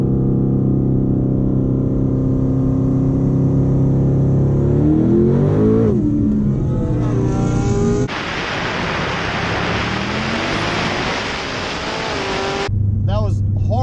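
A twin-turbo car launching hard with its tires spinning, a loud roaring engine and broad rushing tire noise that rises and shifts over about fourteen seconds, with a brief drop near the end.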